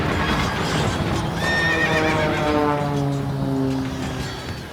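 A horse whinnies loudly in a staged battle scene from a Richard III stage performance, with one long descending neigh ringing out alone over a steady background rumble.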